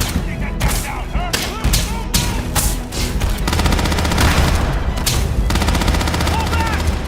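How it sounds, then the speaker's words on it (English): Heavy gunfire in a Starfield video game firefight, with loud, repeated bursts and single shots overlapping in fast, irregular succession, and game voices heard briefly amid the shooting. "We've got company! Opening fire!"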